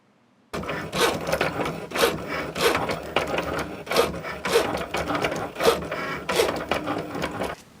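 A cutting machine slices a sheet of heat transfer vinyl for a personalised wash bag, giving a steady mechanical whir with repeated rhythmic strokes and sliding scrapes, close and moderately loud, with no talking.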